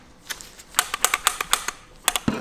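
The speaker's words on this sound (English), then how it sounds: "the idle control valve definitely needs to be cleaned. It should be making that noise every time." A dirty car idle control valve makes rapid sharp mechanical clicking, a dozen or so close ticks in an uneven burst over a quiet background.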